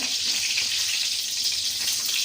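Ghee heating in a pan on a home stove sizzles with a steady, even hiss. It holds level throughout with no pauses and no voices.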